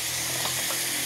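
Bitter gourd sautéed with egg in a pan, a continuous loud close sizzling hiss, steady and unbroken throughout.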